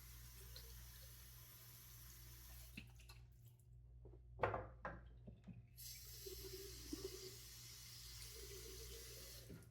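Tap water runs into a sink to wet a shaving brush, a steady quiet stream that briefly breaks into splashing and drips midway before flowing again, with no talk.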